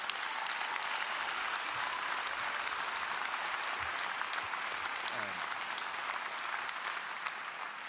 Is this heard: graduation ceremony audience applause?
yes